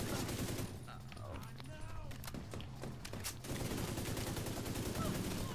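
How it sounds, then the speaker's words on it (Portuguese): Rapid bursts of automatic gunfire crackle through a firefight in the video game The Division 2, dense and continuous, with a voice talking over the shooting. "E eu tô tomando tiro que nem otário."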